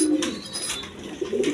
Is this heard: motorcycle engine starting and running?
no